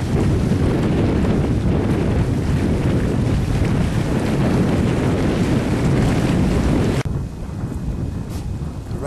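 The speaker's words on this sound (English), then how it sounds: "Still a little bit windy." Steady, heavy wind roars and buffets the microphone throughout at a reservoir in the evening, with a broad rushing noise that eases slightly near the end.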